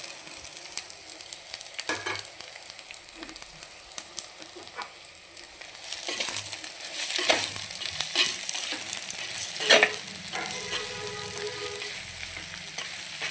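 Thinly sliced onions fry in a pan for an egg curry with spring onions, a steady bright sizzle that swells louder partway through with occasional stirring scrapes and no voices.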